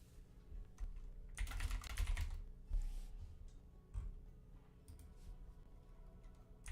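Keystrokes on a computer keyboard clatter in bursts, with dense rapid typing in the middle and scattered single clicks around it, fairly close with a low background hum.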